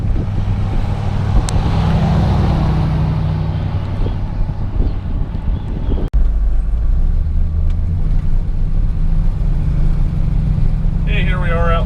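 A 1966 Ford F250 Custom Cab pickup drives along with a continuous low engine and road rumble, heavy wind buffeting the microphone, and a sharp thump partway through.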